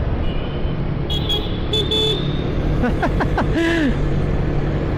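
A few short, thin horn beeps from a Vespa Prima scooter ring out over steady road and engine noise, with a quick cluster of toots near the end.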